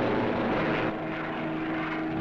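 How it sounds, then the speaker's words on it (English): Propeller-driven Thunderbolt fighter planes flying as dive bombers in wartime, a steady loud droning engine roar that fills the whole span without a break. "These Thunderbolts are dive bombers."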